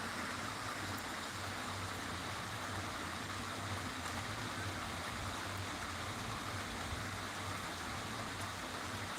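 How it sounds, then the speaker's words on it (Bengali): Light rain falling outdoors after a heavier shower, a steady even hiss with no pauses throughout. "বৃষ্টি হচ্ছে যদিও এখনও একটু কম হয়েছে"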